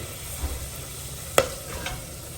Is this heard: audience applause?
no